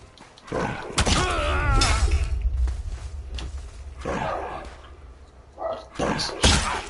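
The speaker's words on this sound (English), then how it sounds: "And sorry about the barking dogs and which I can do about them." Dogs bark close by in loud, irregular outbursts, with a few sharp thuds mixed in during a live play session of the game ELEX.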